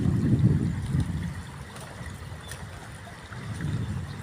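Water of the Sta Praxedes river flows steadily nearby beside rice paddies, a low continuous rushing that swells and eases without any talking.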